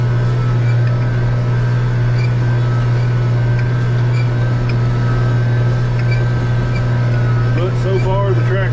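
An 8940 tractor disks dusty, freshly limed ground, its engine giving a loud, steady, low drone that runs without a break throughout.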